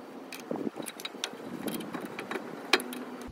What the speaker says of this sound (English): I'm going to use that to press evenly on these two pistons and drive them both down with my clamp